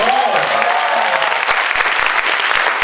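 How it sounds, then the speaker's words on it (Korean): Studio audience at a Korean talk show breaking into loud, dense, sustained applause that fills the whole stretch, with a voice heard briefly at the very start. "박수 한번"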